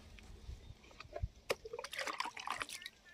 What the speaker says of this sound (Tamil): இங்கே பாருங்கள் கத்திரி செடிக்கலாம் அப்படியே ஊற்றணும்.